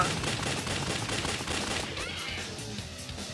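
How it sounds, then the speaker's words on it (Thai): Bombs and gunfire from the mobile shooter game Alien Shooter crackle in a dense, continuous barrage of rapid shots and blasts, steady and fairly loud throughout, tapering slightly near the end. "ผมว่าผมทิ้งบอมแล้วนะเมื่อกี้"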